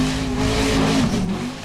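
A Formula Offroad race car at an Icelandic event in Egilsstadir revs hard, giving a loud, strained engine howl that wavers briefly before settling, close and continuous throughout.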